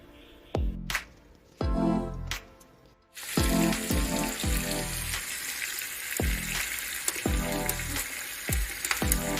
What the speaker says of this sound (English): I allow it to brown on both sides before adding my veggies.